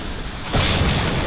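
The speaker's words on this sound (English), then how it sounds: "They explode so nice." A single loud boom bursts in from a Darksiders II fight, a sudden burst that swells into a sustained rumbling roar after a quieter stretch of background game sound.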